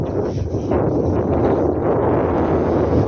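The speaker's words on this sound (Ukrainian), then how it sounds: "Вже його такий вітер сильний" Strong wind roaring steadily across the microphone, a loud, constant buffeting rush with no other clear sounds.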